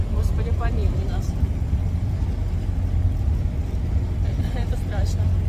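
A car speeds away while fleeing gunfire, heard from inside as a constant heavy engine and road rumble, with faint voices in the cabin.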